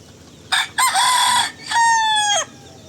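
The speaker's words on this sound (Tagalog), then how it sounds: "marami siyang alagang manok dito na sabungin" A Filipino gamefowl rooster kept for cockfighting gives two loud, clear crows close by, one after another, with a short gap between them and nothing else heard.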